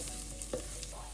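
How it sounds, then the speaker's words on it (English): Minced garlic fries in oil in a pan with a brief soft crackle and a light stirring scrape, faint and close. "let's add our minced garlic in. And we're gonna cook this a bit"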